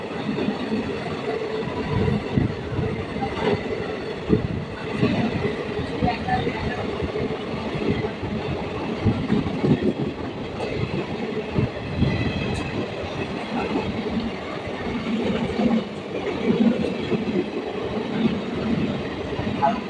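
Silchar–Kolkata special express train rushing through platform four of a station, a loud continuous rumble with rhythmic wheel clatter over rail joints and a brief squeal, heard up close for the whole stretch.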